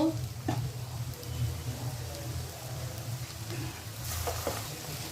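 Rice with sugar and ghee being stirred in a pan over a low flame for basanti pulao, giving a steady soft sizzle with faint scraping throughout, no speech.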